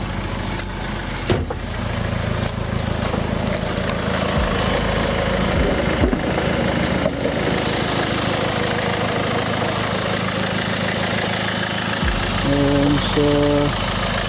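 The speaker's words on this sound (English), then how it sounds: "Just sounds like a typical diesel engine" A 2017 Range Rover Evoque HSE Dynamic diesel idles steadily with the bonnet open, a close, even mid-pitched rumble with a faint knocking tick running unchanged throughout.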